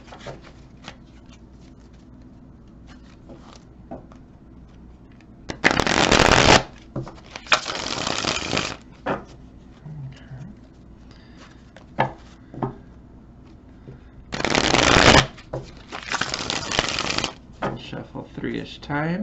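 A tarot card deck being shuffled in two loud bursts of rapid riffling and flicking, separated by quieter handling, tapping and rustling of the cards.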